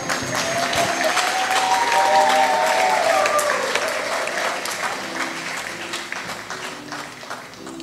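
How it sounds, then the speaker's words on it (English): Church congregation applauding honorees at a Sunday worship service, sustained clapping from many hands with a few voices calling out above it, steady and gradually easing. "And now let's celebrate these honorees with a round of applause."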